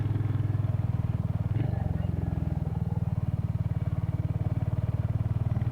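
A Royal Enfield Hunter motorcycle on the move, its engine thumping in a steady, fast low pulse close to the microphone with continuous rumble and no break.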